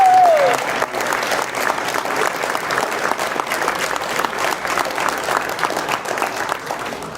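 An audience at a reunion program breaks into sustained applause, steady dense clapping from many hands that carries for several seconds, with faint crowd murmur underneath.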